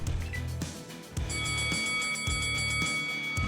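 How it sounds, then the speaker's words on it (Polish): A bell chimes in the video game Ashes: Afterglow, sustained bright tones ringing steadily over a low game soundtrack for several seconds. "jakiś dzwonek, dobrze się gdzieś schować"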